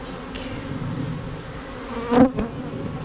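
Honeybees buzz at an open hive during an inspection, a steady close drone with a brief louder pass of a bee near the end.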